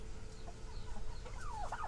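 Several chickens on a farm hit by a disease cluck and croon softly nearby, with rising squawky calls toward the end over a low steady background hum.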